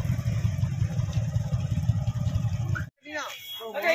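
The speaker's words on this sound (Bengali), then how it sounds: "বাইক পার্কিং করা হচ্ছে" A motorbike being parked: its low engine rumbles and putters close by for a few seconds, then cuts out abruptly, and people begin talking afterward.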